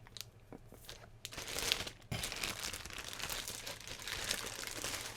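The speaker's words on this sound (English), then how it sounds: "I need to unwrap the shiny plastic wrap. It's the first time peeling the tape off." Shiny plastic wrap being unwrapped and tape peeled off product packaging, giving continuous close crinkling and crackling with a brief pause, then a steady rustle. No one speaks.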